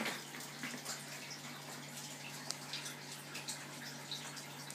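Distillate trickles steadily from a moonshine pot still into a stainless funnel, a soft continuous splashing with faint drips beneath a low steady hum.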